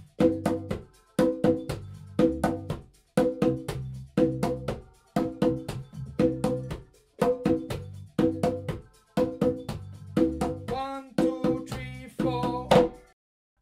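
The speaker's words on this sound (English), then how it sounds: "The same rhythm now, but over a reggae rhythm bass." Congas play a repeating beginner rhythm over a reggae bass line, evenly spaced hand strikes in regular two-second cycles, close and moderately loud, with no talking.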